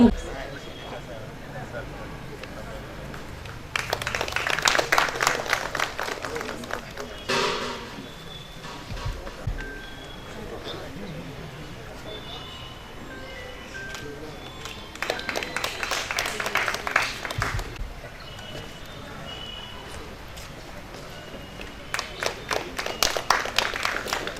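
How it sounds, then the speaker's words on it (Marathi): An audience at a seminar applauds in welcome, with two bursts of broadband clapping separated by quieter stretches of room noise and murmur. "त्यांचंही टाळ्या वाजवून आपण या परिसंवादामध्ये स्वागत करूया"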